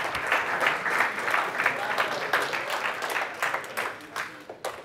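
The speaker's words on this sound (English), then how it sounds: "a round of applause for those of us who've been here before" Applause from a conference audience at a Roblox developer event fills the hall, a steady wash of many hands clapping that thins out toward the end, with a voice speaking over it.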